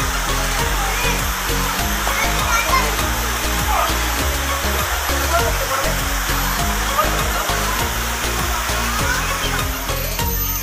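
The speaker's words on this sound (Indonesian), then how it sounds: "Keindahan air terjun Tanjung Balai Karimun di Brasam." A waterfall in Pungkar village, Tanjung Balai Karimun, pours with a steady, dense roar of rushing water that stays loud and unbroken for the whole stretch, with no voices over it.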